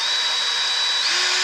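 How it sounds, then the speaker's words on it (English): A power drill whirs loud and steady, spinning an engine valve from a 1975 Honda CB200T, its high whine holding even before shifting pitch slightly near the end. "I like to put it in a drill so it'll spin."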